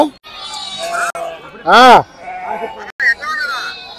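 A sheep gives one loud, close bleat amid a busy Gudur sheep market, with people talking before and after it.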